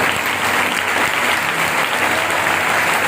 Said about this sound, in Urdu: تالیاں پہ دو جاؤ.